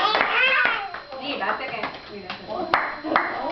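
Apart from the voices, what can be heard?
child clapping hands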